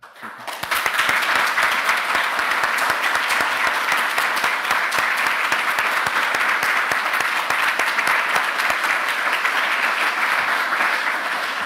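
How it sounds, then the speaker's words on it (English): A conference audience at a Python talk breaks into sustained, dense applause that swells quickly and holds steady, loud and close, with no talking over it. "if we could have a round of applause to wish her good luck"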